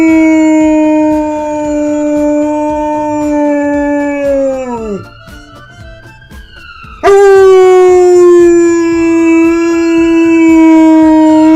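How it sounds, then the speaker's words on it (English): Police siren sounds play loudly and steadily while a dog howls along, rising and falling harmonic wails that dip briefly mid-clip before resuming at full strength. "played the police siren sounds to go with it"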